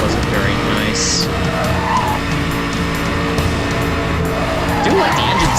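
A race car in Need for Speed Hot Pursuit Remastered roars steadily at high revs while its tires skid and squeal through a corner, loud and continuous throughout.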